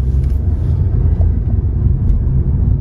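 A small car's engine runs steadily while driving, a close, constant low rumble with no talk over it.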